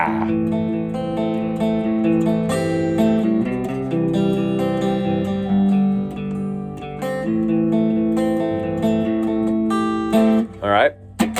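A guitar picking pattern plays in flowing, even notes over sustained chords, close and clear. A short vocal sound breaks in near the end.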